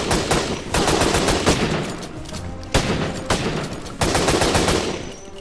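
An M16K machine gun in the video game Syphon Filter: The Omega Strain, set in a warehouse district, fires loud, continuous automatic bursts with dense rapid shots and brief breaks between the strings of fire.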